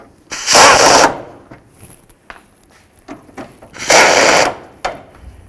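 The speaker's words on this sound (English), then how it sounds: "It's time to bolt these down." A power tool bolting down the headlight housing on a 2005-14 Ford Mustang, two loud rattling impact bursts about three seconds apart with light handling clicks between them.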